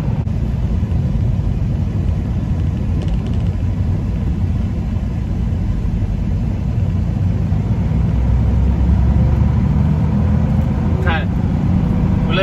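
2nd-gen Dodge Ram 3500 dually pickup with a 5.9L Cummins diesel and a suspected broken turbo drives along a hilly road, its low engine drone and road rumble filling the cab steadily throughout, with someone talking over it.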